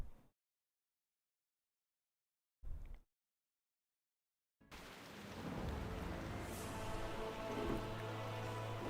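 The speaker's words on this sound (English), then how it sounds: "Oh, it's raining." Rain and rolling thunder from the World of Warcraft video game come in after near silence and a short burst, then a steady hiss with a low rumble underneath, moderately loud with no talk.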